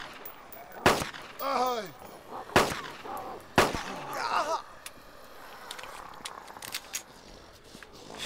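Gunshots in the ArmA 2 DayZ Mod video game, three sharp, loud reports spaced a second or so apart, with voices and groan-like sounds between them, fading into quieter background noise.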